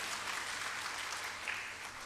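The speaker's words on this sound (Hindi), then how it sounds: "एक बार जोरदार तालियां योगेश सिंह जी के लिए" Faint, distant crowd applause at a Dainik Jagran event at Miranda House college, a soft continuous patter of many hands clapping with no speech.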